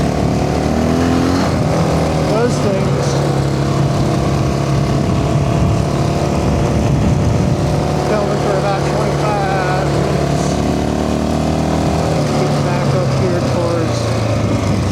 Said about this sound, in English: My motorcycle's making motorcycle noises.